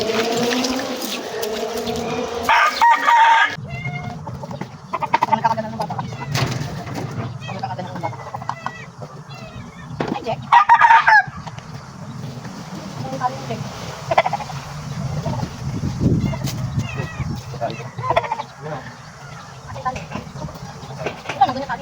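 Chickens and roosters cluck and call around a backyard chicken pen in the Philippines, with buzzing insects, while people talk through much of the scene.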